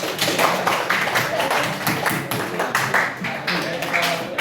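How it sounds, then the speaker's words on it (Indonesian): Students clapping hands in a classroom, a steady run of quick rhythmic claps in counted rounds, fairly loud and close, with a voice calling out the counts over them. "Tepuk 1. Tepuk 2. Tepuk 3. Tepuk 4. Tepuk 5. Oke, tepuk tangan dulu itu."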